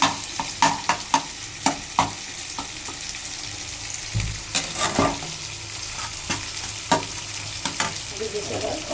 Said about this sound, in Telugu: చూడండి చికెన్ ఇలా ఉడుకుందో